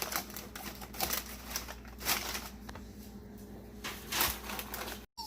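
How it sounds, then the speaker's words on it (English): Scrap paper being wrapped and crinkled around a bottle to build a volcano model, with soft rustling and crumpling bursts at close range and no speech. "you're gonna start wrapping scrap paper around the bottle."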